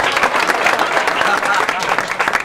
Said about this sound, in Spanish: Muy bien, aplauso.